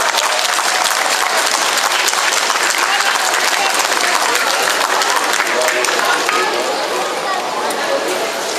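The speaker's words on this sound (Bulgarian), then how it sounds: "Аплодисменти." Loud, continuous audience applause at a Teacher of the Year award ceremony in Dimitrovgrad, a thick unbroken roar of clapping filling the hall for the full stretch with only a slight easing near the end.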